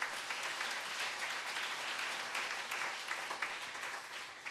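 A church congregation at a Sunday evening service applauds, a dense, steady wash of many hands clapping that fills the room evenly for several seconds.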